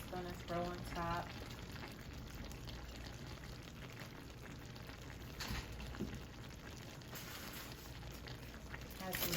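Salsa chicken simmers in a pan with a steady, soft bubbling sizzle running throughout, while a voice talks briefly near the start.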